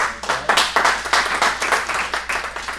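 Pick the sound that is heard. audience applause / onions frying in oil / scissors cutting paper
audience applause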